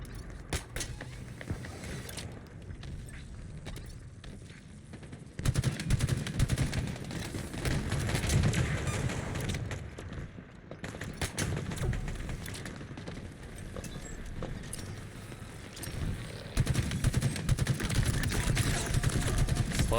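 Gunfire in a Halo Big Team Battle match: rapid, dense bursts of weapon fire and impacts, loud and near, running almost continuously with short gaps, mixed with game effects.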